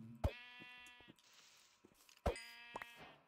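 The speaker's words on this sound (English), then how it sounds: "Sheep." Two bleats from a sheep in the Minecraft video game, clear and close, separated by a short gap with light game sounds between them.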